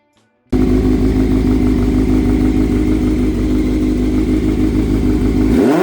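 A 1984 Honda Nighthawk 700S motorcycle engine fitted with 4-into-1 headers and a Super Trap slip-on exhaust starts loud and steady after a brief silence, holding a throbbing, even idle-to-mid rumble close by, with a slight rev change at the end.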